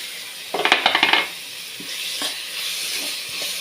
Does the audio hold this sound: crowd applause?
no